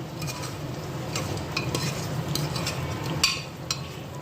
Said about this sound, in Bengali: এই দেখো আলুটা দিয়ে দিলাম দিয়ে এখন একটু নেড়ে চেড়ে